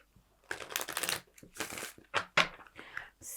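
Tarot cards shuffled by hand in short bursts of crisp riffling and rustling, close and fairly quiet, with brief pauses between the bursts and no talk.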